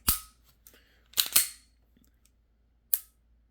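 A handful of sharp, plasticky dry-fire trigger clicks from a Springfield Hellcat Pro pistol, a couple close together, then a pause and one more, recorded close in quiet surroundings.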